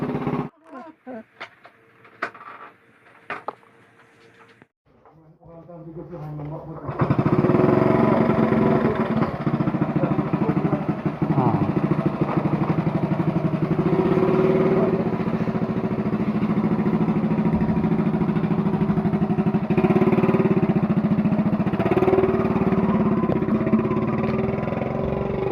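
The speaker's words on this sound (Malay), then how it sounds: "Motor dah bergerak." After some clattering and a brief quiet, a Honda C70 motorcycle engine with a repaired carburetor starts and settles into a loud, steady idle that runs on unbroken.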